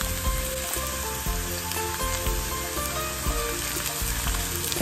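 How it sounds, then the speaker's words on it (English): Bottle gourd frying in ghee gives a steady, dense sizzle that runs unbroken from start to finish, close and fairly loud, with no voices. "you can see that the bottle gourd now has been fried up in this ghee"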